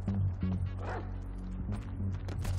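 A dog barks and yips several times in Grand Theft Auto 5, short close sharp barks over low background rumble and game sound.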